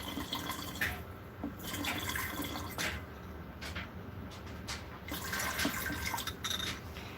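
Salt brine trickles and drips into a fermenting crock of sauerkraut weighted with stones, a steady close splashing pour with scattered droplets running throughout.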